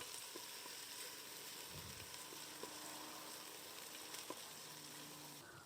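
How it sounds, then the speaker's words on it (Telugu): Ginger garlic paste frying in oil for gongura rice, a steady soft sizzle with faint crackles running throughout, fairly quiet and without voices. "నూనె అంతా చిటిపటలాడుతుంది"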